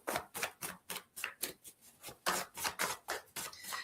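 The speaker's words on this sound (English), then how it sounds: "They shuffle so nicely." A deck of newly printed cards being shuffled, giving a quick run of about a dozen crisp, papery riffling bursts in steady rhythm, close and fairly quiet, with no one talking.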